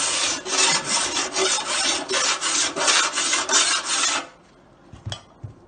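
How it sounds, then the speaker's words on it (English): A metal file rasps over a dented car body panel in steady back-and-forth strokes, about a dozen loud scrapes in rhythm, then stops, leaving a couple of faint knocks. "I'll run the file over that."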